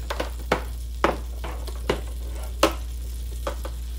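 Butter melting in a pot for a roux with a low steady sizzle, punctuated by a series of sharp scraping and stirring clicks, close up and with no talking.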